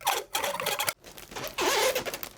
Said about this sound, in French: ici, on va utiliser un ruban adhésif